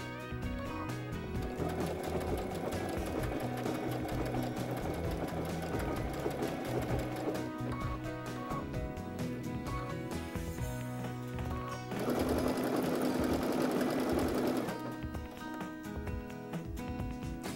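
Sewing machine stitching an applique triple stitch, a steady close mechanical whir of rapid needle strokes that runs continuously, briefly changes tone, then surges louder near the end before easing, with no talk.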